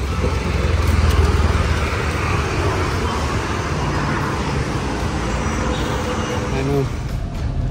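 A car driven on a road, with steady engine and tyre rumble and passing traffic noise throughout, no talk.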